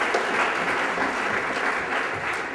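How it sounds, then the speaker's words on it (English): A fair-pageant audience breaks into dense, sustained applause, a steady wash of many hands clapping at even loudness with no talk over it. "I'd like you to join me in a round of applause and wish them all great luck tonight"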